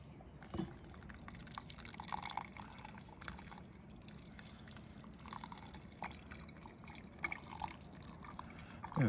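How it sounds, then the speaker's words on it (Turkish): Water is poured slowly into a Stanley stainless steel coffee brewer, a faint, steady trickle with light drips close by. "Suyumuzu döküyorum."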